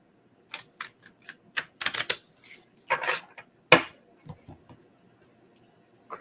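Stiff cards being handled and shuffled: irregular flaps, clacks and snaps, close and fairly sharp, trailing off into quieter taps.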